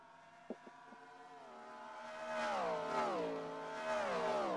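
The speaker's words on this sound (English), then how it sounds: "Here come the rest of the cars across the stripe." Engines of NASCAR-style race cars in a video game at Circuit of the Americas crossing the finish line in single file, a steady layered engine drone with shifting pitch and a brief click near the start.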